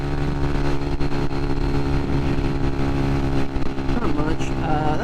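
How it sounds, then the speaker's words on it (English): Steady drone of a 125cc starter motorcycle held at wide open throttle in 4th gear while cruising over gentle elevation changes, loud and continuous with strong engine harmonics and wind, a rider's voice faintly mixed in. "cruising down through 4th gear, wide open throttle, with a little bit of elevation changes"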